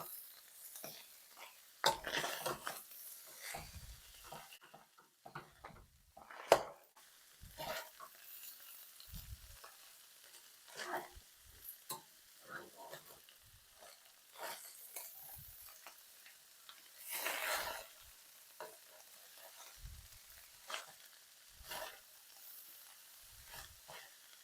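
Cabbage frying in a pan as it gets stirred: a soft, quiet sizzle broken by scattered scraping and tapping from the utensil, with pauses between strokes.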